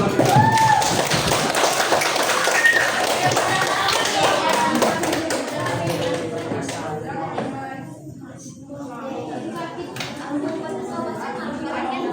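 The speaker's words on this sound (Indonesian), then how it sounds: "Nah, tepuk tangan dulu." Children clap together in a classroom after prize winners are announced, a dense burst of taps that thins out over several seconds while a teacher's voice and other talk continue underneath.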